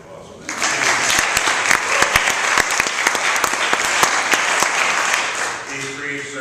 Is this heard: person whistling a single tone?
no